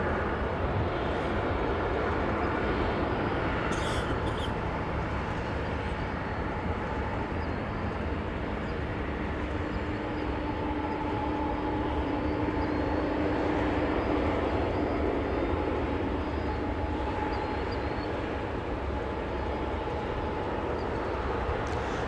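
A Boeing 787-9 Dreamliner departing, giving a broad sustained jet roar that holds steady and swells slightly midway, heard alone without voices.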